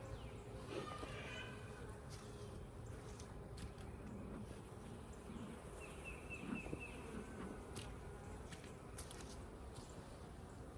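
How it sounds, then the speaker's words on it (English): Honeybees buzzing at an open hive during a spring inspection with a smoker, a steady dense hum filling the background with occasional brief louder passes of individual bees close by. "there are some bees over here too"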